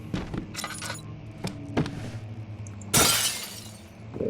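Glass shattering inside the horror game Amnesia: The Dark Descent, a sudden loud crash at the end following a few lighter clinks and knocks, alone with no voices.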